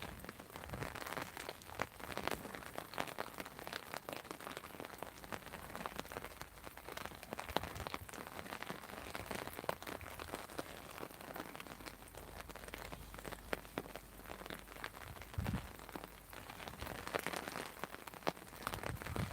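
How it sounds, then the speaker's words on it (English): Heavy rain and sleet during Storm Goretti, a constant dense patter and hiss of drops on surfaces, steady and close throughout with no break. "It's hammering down with snow, Daniel."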